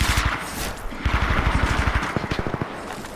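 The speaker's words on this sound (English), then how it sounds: "I hear gunshots" Rapid bursts of gunfire crackle in quick succession, dense and loud, with a steady low rumble underneath, during a Titanfall 2 multiplayer firefight.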